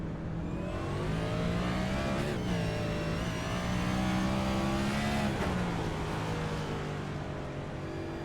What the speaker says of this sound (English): he just spun the tires because he didn't even shift into third